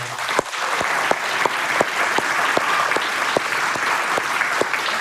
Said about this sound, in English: let's give them applause as well